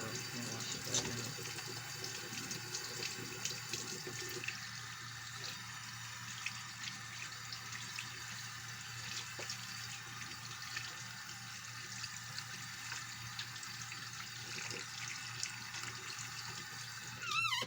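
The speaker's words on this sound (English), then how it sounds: "It's a very thorough hand washing right now." Steady running water from a faucet while hands are washed thoroughly at a sink, a continuous soft hiss with small splashing changes and a clunk at the very end.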